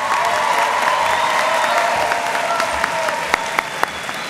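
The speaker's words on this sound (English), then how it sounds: "let's give them all the biggest round of applause possible" Graduates at a Latina/o graduation celebration receive sustained applause from a crowd, a dense, steady clapping that fills the whole stretch, with a few sharper individual claps standing out near the end.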